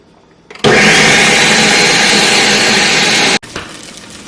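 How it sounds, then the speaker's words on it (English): Kitchen blender pureeing cooked whole potatoes, a loud, steady, close whir that starts abruptly, runs for about three seconds and cuts off, with no talk over it. "So now I'm gonna blend this here."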